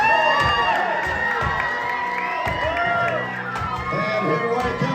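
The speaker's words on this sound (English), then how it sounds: "Cheer these guys on all the way through this one because it is a dangerous chop." Crowd cheering and whooping at a lumberjack chopping contest in Ketchikan, Alaska, with loud shouts and children's yells rising and falling continuously, punctuated by sharp thuds.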